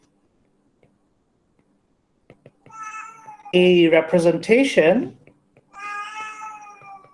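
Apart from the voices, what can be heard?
domestic cat meowing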